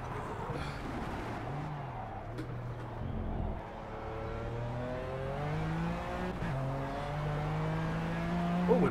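A Lykan HyperSport's engine laps Mount Panorama in Project Cars, its revs climbing and shifting in steady rising sweeps, loud and continuous throughout.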